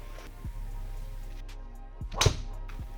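A golf club strikes a ball, a 2019 Snell MTB-X or Titleist Pro V1, with one sharp crisp impact standing out against quiet outdoor background, with a couple of fainter clicks around it.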